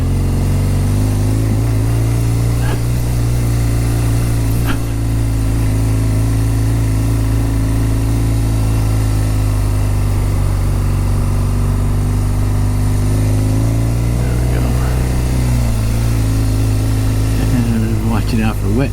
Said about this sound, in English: What a great motor on this motorcycle. It's like a tractor going up hill